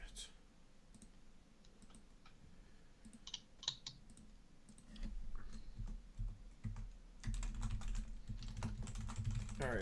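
Steady keyboard typing with quick irregular clicks, growing busier and louder partway through, with a low background rumble.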